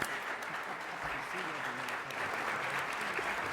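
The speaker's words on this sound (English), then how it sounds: "please give the panel, this distinguished panel, a round of applause" Audience applause for a distinguished panel at a 2016 town hall forum on bridging the generational divide, dense steady clapping from a sizable crowd holding at an even level throughout, with faint voices underneath.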